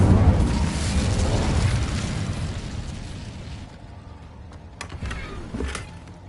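Incendio fire spell blast in Hogwarts Legacy, a loud whooshing burst that fades into a low rumble, followed by a few sharp crackling pops.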